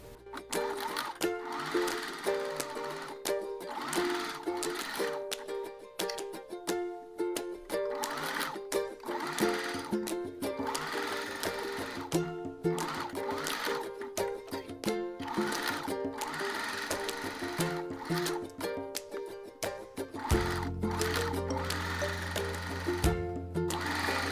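A sewing machine runs a straight stitch along a seam on a bra bust, whirring in quick bursts with short pauses, then a lower steady hum at the end.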